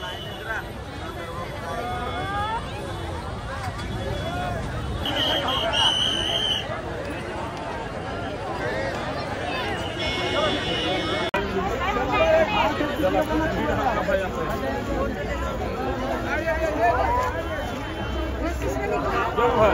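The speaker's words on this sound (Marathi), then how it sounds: "गर्दी बघा ही बाई." A dense crowd murmurs at the Maha Kumbh Mela in Prayagraj near the Sangam boat point, a steady babble of many voices with a person talking over it.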